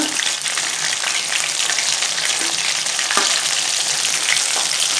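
Chicken 65 pieces fry in hot oil with a loud, dense, continuous crackling sizzle close by, broken only by a few scraping stirs.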